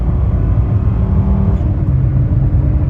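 A 1992 Mercedes 300D 2.5 Turbo diesel pulls hard at full throttle with the AC compressor running, giving a loud, continuous low rumbling drone heard from inside the car without talk.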